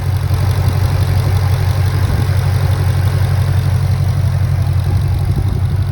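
A 2020 Ford Mustang Shelby GT500 with a hand-built engine of over 760 horsepower idles close by, a loud, steady low rumble that holds evenly throughout with no talk.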